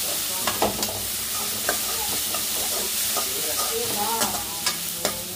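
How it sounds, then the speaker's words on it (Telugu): Tomatoes with ginger garlic paste sizzle and fry in a pan while a utensil stirs them, scraping and clinking at intervals over the steady, close sizzle. "ఇంకా అల్లం వెల్లుల్లి పేస్ట్ వేసుకొని మొత్తం కలిపేసుకున్నాం."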